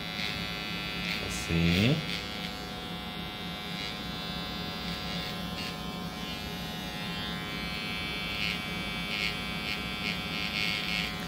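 Electric hair clippers buzz steadily at close range while cutting a straight line in very curly hair, with a person talking briefly over the continuous hum.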